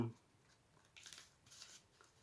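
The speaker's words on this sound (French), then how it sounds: "je prendrai bien soin, voilà ici, de découper après cette page" Scissors snipping through paper after a page in a handmade paper book, two or three quiet rustling cuts close by, following a brief voice at the start.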